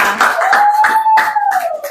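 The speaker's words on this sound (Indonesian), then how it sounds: "tepuk tangan dong buat Tama." Schoolchildren in a classroom clap their hands in a short, uneven burst of claps, close and fairly loud, with a faint whistle-like tone running through.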